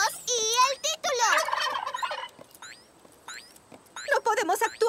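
Cartoon turkey call, a warbling gobble from a voice imitating a turkey, loud and close with breaks between phrases and short squeaky effects.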